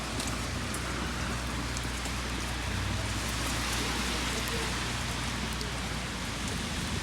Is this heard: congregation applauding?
no